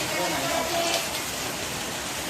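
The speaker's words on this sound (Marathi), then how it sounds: "अचानक पाऊस आला" Sudden rain pouring outdoors during the monsoon season, a steady broadband hiss of falling drops, continuous and fairly close, with a faint voice in the background.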